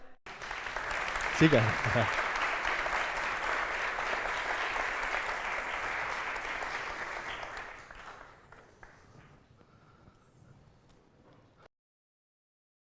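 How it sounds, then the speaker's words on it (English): Audience at a TED talk breaks into loud, sustained applause for a special guest wearing a brain-computer interface, a dense crowd clapping that fades out after several seconds, with a brief voice near the start. "I want you to receive a very special guest, Mrs. Amparo, with a loud applause."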